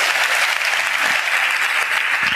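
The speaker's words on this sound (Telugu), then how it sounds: "చప్పట్లు కొడుతూ దేవునికి స్తోత్రాలు చెప్దాం." A church congregation claps together in praise to God, a dense, steady wash of applause that fills the whole moment without pause or talk.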